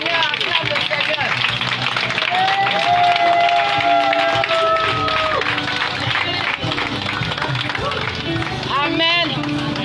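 A church congregation at an evening service in Marcory's Vatican stadium claps and cheers in praise, a dense continuous roar of hands and voices with people singing and talking over it.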